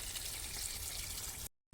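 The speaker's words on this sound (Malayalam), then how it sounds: "സ്വാഭാവികമായിട്ട് വെള്ളം താഴേക്ക് ഒഴുകുകയും അതിൻ്റെ ഫലമായിട്ട് വെള്ളം ഇങ്ങനെ ഡ്രെയിനായി പോവുകയും ചെയ്യും." Water gushes steadily out of a hose draining a garden fish pond, a continuous close rushing flow that cuts off abruptly near the end.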